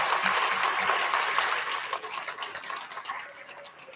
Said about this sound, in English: let's give one more big round of applause for all of our friends that received the recognition today